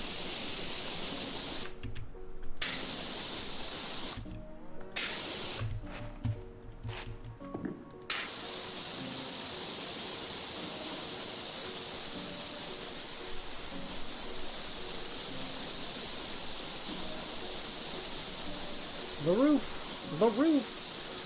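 Pressure washer spraying in PowerWash Simulator 2, a loud continuous broadband hiss of water jet that cuts in and out in short bursts early, then runs steadily, with a faint voice near the end.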